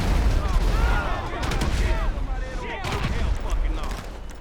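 Grenades bursting in GTA Online as they're banked off rooftop ventilation ducts, a dense run of loud explosive booms and gunfire-like cracks overlapping continuously, with game effects layered throughout.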